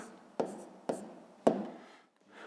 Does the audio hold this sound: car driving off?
no